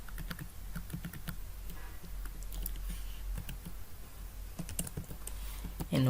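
Typing code on a computer keyboard, scattered quick key clicks in short bursts with pauses, close and fairly quiet against a faint room hum.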